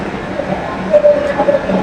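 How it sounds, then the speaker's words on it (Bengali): A metro rail train at Agargaon station, heard as a loud, steady rumble with a rising tonal whine close by. "ট্রেন থেকে নেমে পড়লাম"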